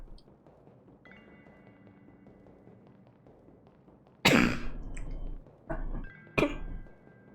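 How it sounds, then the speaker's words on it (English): A few harsh coughs burst out close by after a quiet stretch of faint background hum, coming in a short cluster of three separate fits. "Apologies for the coughing today, by the way."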